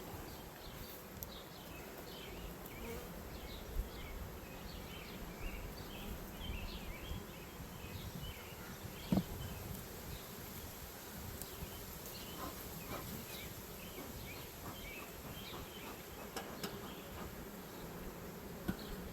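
A steady, dense hum of many honey bees buzzing close by around a Layens hive, with scattered bird chirps faintly in the background throughout.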